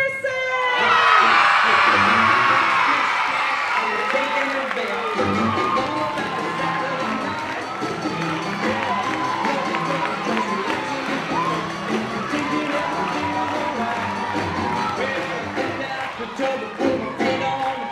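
School audience at a primary interhouse music competition cheering, whooping and clapping, a sustained noisy mix of children's shouts and applause that fills the hall throughout.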